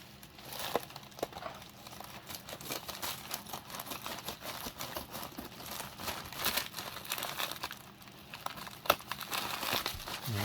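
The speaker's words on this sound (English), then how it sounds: "Let's cut this right through here." Scissors snip through a plastic poly bag of Lego parts, with close, quiet crinkling and crackling of the plastic continuing in irregular bursts throughout.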